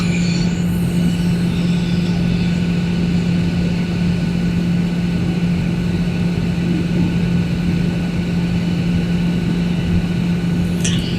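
Steady, loud jet airliner cabin roar with a constant low drone as the aircraft approaches Kabul International Airport for landing, continuous and unbroken throughout.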